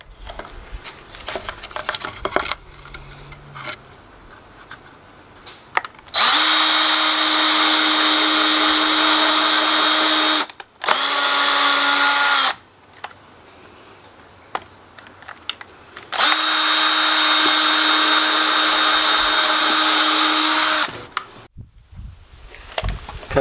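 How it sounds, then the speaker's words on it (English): Two long bursts of a high, whirring power drill driving screws into wood for a beehive floor, a few seconds each, separated by a short pause and quieter handling noises. "drill our pilot holes, put our screws in"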